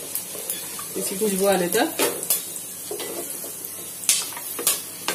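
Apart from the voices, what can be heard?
cumin seeds and whole garam masala sizzling in hot oil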